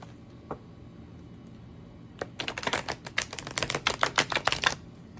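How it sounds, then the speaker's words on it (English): A quick burst of crisp, rapid riffling clicks after a couple of isolated taps, like a deck of cards being shuffled close by. "Let me just shuffle these cards again."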